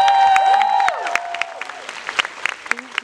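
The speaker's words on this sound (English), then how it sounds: "Can we give a big round of applause for Zoe?" An audience claps for Zoe with light cheering at an event about the Descendants 4 movie. The applause is loud at first and then thins into scattered individual claps, with voices and tonal sounds under it.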